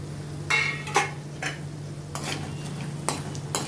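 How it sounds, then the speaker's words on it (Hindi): Roasted chana dal being stirred and toasted with poha chivda in a pan, a few brief scraping and rustling strokes spaced over a steady low hum, fairly quiet with no voices. "इसको भी अभी अच्छी तरह से रोस्ट करती हूँ इनके साथ"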